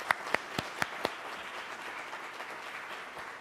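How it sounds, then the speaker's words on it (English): Audience applause for a panel of Ohio state politicians at a public forum, opening with a few sharp, separate claps before settling into a soft, steady patter of clapping from a crowd in a room. "Let's give them a round of applause."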